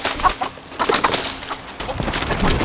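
Chickens cluck and coo while they are caught and handled in a yard, giving short scattered calls amid rustling and scuffling close by.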